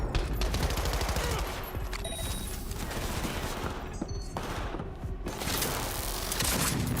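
Sustained gunfire in a Cyberpunk 2077 shootout: dense, continuous bursts of automatic weapons fire with heavy booms, loud and near throughout, with brief lulls before the barrage resumes.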